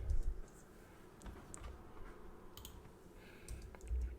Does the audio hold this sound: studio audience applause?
no